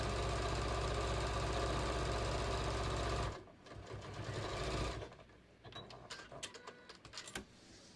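A sewing machine quilts along the printed blocks of fabric for a beach tote, running loud and steady for about three seconds, then stopping and giving way to quieter shifting and handling of the fabric.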